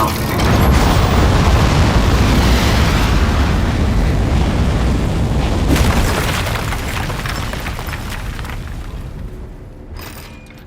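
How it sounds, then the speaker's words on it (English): A rocket lifts off with a sustained heavy roar and rumble that holds strong, then slowly fades and thins toward the end. "3, 2, 1. We have liftoff."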